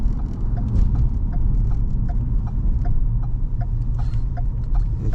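A 2014 Ford Explorer SUV rolls along through a slow U-turn, a steady low rumble of engine and road noise heard from inside the cabin with faint ticking.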